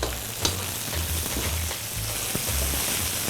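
Fresh string beans stir-frying in a pan for veg lo mein, a loud close sizzle with rhythmic scraping and tossing strokes as they are stirred, no voices over it.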